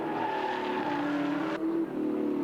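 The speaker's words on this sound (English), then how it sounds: "The rev range, the tachometer really working here as he shaves the wall." A touring car's engine revs hard through a fast lap at Bathurst as the car runs close to the wall, a loud sustained howl that shifts pitch sharply near the end.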